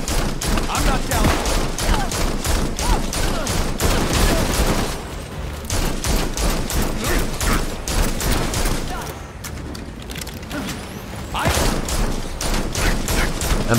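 Rapid bursts of gunfire in the video game Gotham Knights, dense repeated shots over several seconds with brief lulls, loud and close amid game action.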